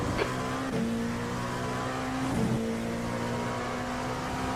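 Super Formula Lights race cars lap the Spa circuit in a sim race, with a steady high engine whine from the driven car, brief downshift dips and blips, and faint tyre scrub.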